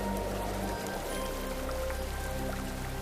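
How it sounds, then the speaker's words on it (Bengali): Heavy rain with gusty wind begins on the water around a fishing boat, a dense steady hiss of drops pattering close by, with a low wind rumble underneath that eases after the first second. "কিছুক্ষণের মধ্যেই জোর বৃষ্টি শুরু হয়ে গেল, আর সাথে ঝোড়ো হাওয়া"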